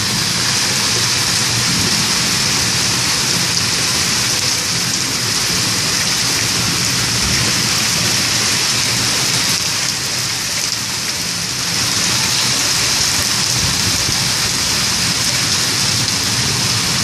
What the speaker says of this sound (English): Heavy rain and thunder